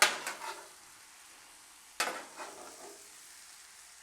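Cheesesteak meat and white American cheese on a Blackstone griddle, where two sharp spatula scrapes about two seconds apart are followed by a faint, steady sizzle.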